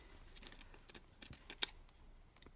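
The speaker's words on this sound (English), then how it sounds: "I absolutely love these Tim Holtz scissors." Tim Holtz craft scissors cut through sticky craft material in a few quiet, irregular snips, each a short crisp click set against a hushed indoor background.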